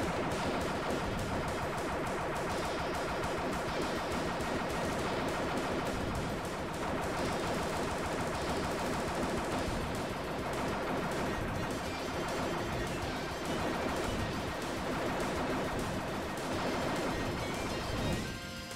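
Constant rapid gunfire and crashing impacts in the retro video game Total Eclipse, a dense, loud, unbroken barrage lasting the whole stretch with no pauses and no talking.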